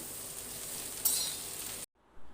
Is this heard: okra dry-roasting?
yes